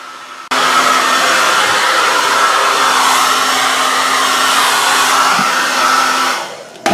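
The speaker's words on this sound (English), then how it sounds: "Back with the upside down dryer." A hair dryer switches on and blows steadily with a loud, even whoosh and a faint motor hum, then shuts off near the end.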